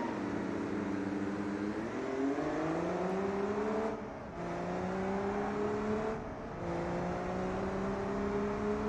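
A car engine driving downhill in the BeamNG.drive simulator, a steady droning hum whose pitch climbs and shifts through gear changes, with two brief dips where the throttle lifts.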